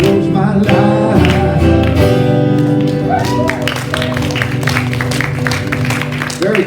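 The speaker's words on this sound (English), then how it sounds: "Excellent on the clapping." A congregation claps along during a spiritual service, steady dense clapping mixed with music and voices throughout.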